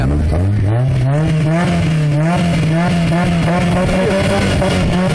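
A car exhaust revving at a loudest exhaust competition in Carlisle, a loud, close engine drone rising in pitch then holding steady and rough with pulsing harmonics, continuous throughout.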